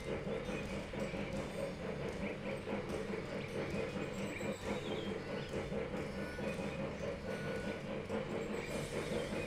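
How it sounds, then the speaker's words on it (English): Steady, dense rumble of a moving electric train in Railroad Tycoon 3, with continuous rolling rail noise and faint mechanical clatter throughout, fairly loud and unbroken. "How's our little electric train doing?"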